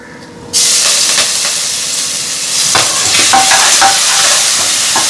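A ground paste of green chilli and curry leaves drops into hot oil with browned peanuts, setting off a sudden loud hiss that settles into a steady close sizzle, with light stirring scrapes.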